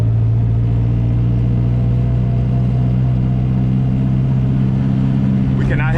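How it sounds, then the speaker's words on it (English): A turbocharged car runs without boost after losing its wastegate, its engine droning as a steady, loud low rumble from inside the cabin, continuous throughout with a slight rise near the end. "We cannot hit boost at all. We gotta pretty much drive it like it's NA."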